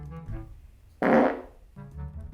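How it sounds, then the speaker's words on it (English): A single loud, close human fart bursts out for about half a second, a raspy, buzzing blast that stands out clearly against quiet background murmur. "I'm about to fart on a ferret and see how it reacts."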